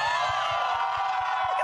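A studio audience cheers and whoops loudly throughout, with a dense wash of voices and a steady low rhythmic thump underneath.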